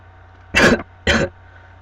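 Two quick coughs, close and fairly loud, with a short pause between them over a low steady hum.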